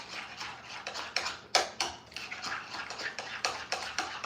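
Utensils scrape and clink against a bowl while seasoned ingredients for a spicy chicken bowl are mixed, in a steady run of quiet strokes with one louder knock, close up and without talk.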